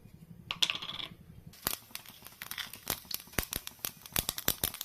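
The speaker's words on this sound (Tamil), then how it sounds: "வானலில் எண்ணெய் காஞ்சிச்சு கடுகு சேர்த்துக்கலாம்" Mustard seeds spluttering in hot oil in a pan while cooking drumstick-leaf poriyal: a burst of sharp, irregular pops and crackles, close and crisp, following a brief rustle.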